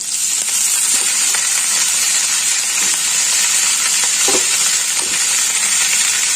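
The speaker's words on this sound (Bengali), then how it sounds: "রসুনটা ভাজা হয়ে গেছে এবার আমি এর মধ্যে দিয়ে দেবো মুলো শাকটা" Radish greens tossed into a pan of fried garlic and oil, hissing in a loud, dense sizzle up close, with a few soft stirring knocks.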